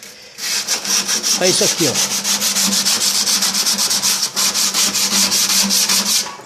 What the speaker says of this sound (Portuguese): Então você pega uma lixa,